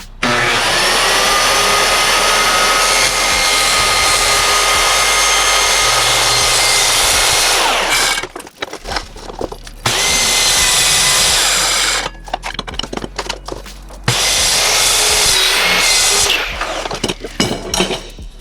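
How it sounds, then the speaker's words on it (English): Circular saw ripping through an aluminum sheet, a loud continuous whining cut for about eight seconds, then broken bursts as the blade restarts and cuts again in short stretches, with no talking. "you can cut aluminum with a circular saw."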